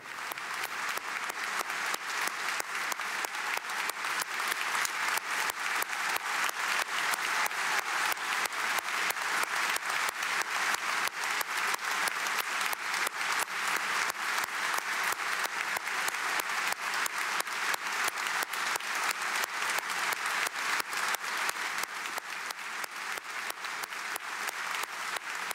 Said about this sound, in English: Let's just give this a moment and listen in to the applause.